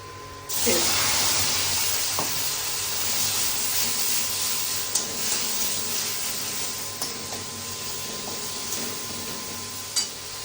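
Onions frying in a pan as ginger, garlic and green chilli are added, a steady broadband sizzle and hiss running throughout with a few faint clicks of a utensil.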